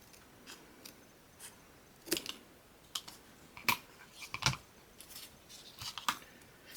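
Scissors cut paper or craft material for a clam-shell angel ornament, with quiet, close, irregular snips and clicks spaced through a hushed room.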